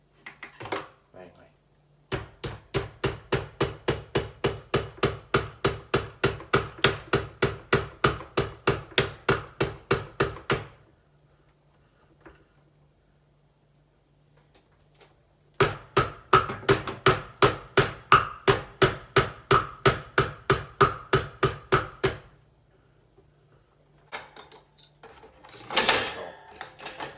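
A hammer strikes a fan part in a long run of sharp, evenly spaced metallic taps, about three per second, pauses briefly, then resumes in a second steady burst, close and fairly loud.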